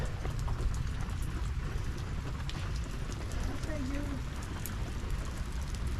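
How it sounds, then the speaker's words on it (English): Rain falls outdoors as a steady, dense hiss with no breaks, moderately loud and close, and a voice speaks now and then over it. "Well, you can stand in the rain. I'm out of the rain for now."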